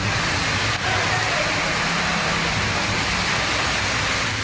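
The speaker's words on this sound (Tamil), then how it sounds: "பலத்த காற்றுடன் அரை மணி நேரம் கனமழை பெய்தது" Heavy rain driven by strong wind during a downpour in Tamil Nadu, a dense, continuous roar of water that stays loud and steady throughout.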